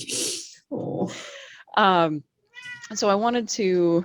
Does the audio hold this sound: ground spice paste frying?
no